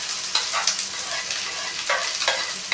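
Vegetable curry reheating on a hot tawa griddle gives a steady close sizzle with occasional stirring scrapes and crackles, no talking.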